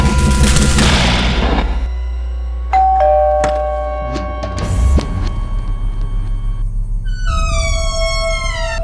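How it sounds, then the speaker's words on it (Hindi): A loud electronic doorbell chime rings out in a crime drama setting, sustained ringing tones layered over deep rumbling music, with a further descending chime near the end. "हम सबके घरों में दिन में कई बार डोरबेल बजती है।"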